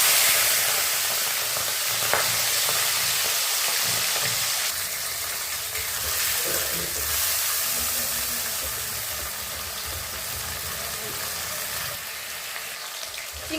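Shrimp frying in hot oil in a kadai, a loud, continuous hiss and crackle of sizzling with occasional soft stirs, close and steady throughout with no talking.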